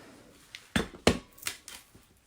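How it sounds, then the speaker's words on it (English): A Tailor Tack punch cuts through paper with several sharp, close crunching snaps, two of them loudest, followed by lighter clicks. "And I'm using the Tailor Tack punch. That way I can cut the"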